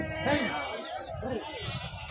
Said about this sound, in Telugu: మంచి మంచి గొర్రెలు ఉన్నాయి